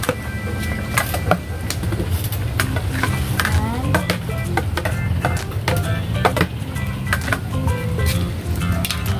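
Repeated scraping and clinking of a utensil stirring alugbati (Malabar spinach) in a boiling pot, irregular strokes close up, over a constant bubbling, simmering hiss.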